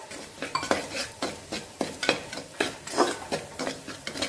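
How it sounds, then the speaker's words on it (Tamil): Semolina roasting in a generous amount of ghee in a pan, stirred with a utensil that scrapes the metal in steady, rhythmic strokes, close and moderately quiet with a faint sizzle underneath. "ஒரு டம்ளர் ரவாவை போட்டு நல்லா நெய் நிறைய தாராளமாக விட்டு வறுத்தணும்"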